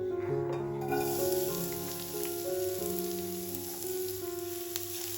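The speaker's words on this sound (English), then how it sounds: "Cook the onions for 2-3 minutes until translucent." Onions sautéing in olive oil over medium heat give a steady, soft sizzling hiss that runs the whole time beneath sustained musical notes.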